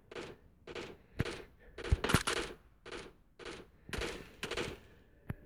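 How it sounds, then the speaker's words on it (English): Gunshots in the mobile battle royale game PUBG Mobile, a series of about ten sharp, loud shots and short bursts fired at an irregular rhythm, fairly close. "Oh, he's getting shot now."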